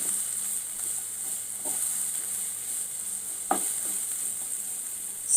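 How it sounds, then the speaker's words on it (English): Onions sizzle steadily while frying in a pan for a spicy South Indian chicken dish, with faint scrapes from stirring and one sharper clink of a spoon partway through; no voices. "Keep stirring. We need to ensure that the onions are nicely fried till they are transparent."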